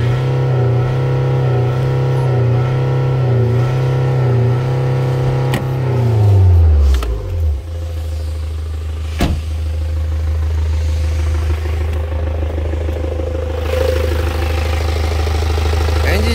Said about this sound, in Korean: 엔진 시동 상태 양호, 액셀레터 두 번.